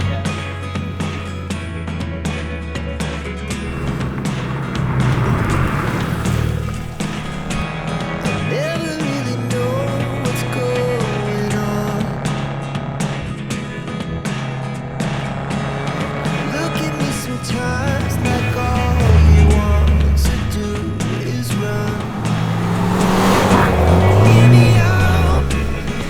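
A car drives along with a continuous engine rumble and road noise from inside, the engine tone rising and falling as it changes speed, with people talking faintly over it.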